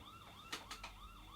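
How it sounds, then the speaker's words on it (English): A Husqvarna R152SVH robotic lawn mower's loud electronic siren alarm wails in rising and falling sweeps, with a few sharp knocks partway through. "It says siren alarm. Notice this is loud and may upset your neighbours."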